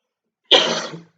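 One short, sharp cough, close and fairly loud, following a moment of silence.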